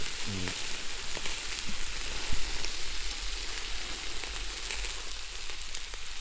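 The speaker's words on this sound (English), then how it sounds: "Just cooking the bread. Burning the bread." Bread sizzles and crackles steadily on a hot outdoor grill at a campsite, a close, continuous frying hiss with small pops and occasional clicks, no voices.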